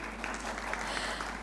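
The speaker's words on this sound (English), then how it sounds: "Can we have a huge round of applause for them?" A conference audience at the NISAA Business Forum 2023 applauds the event's sponsors, a dense, steady wash of clapping that fills the short moment without pause.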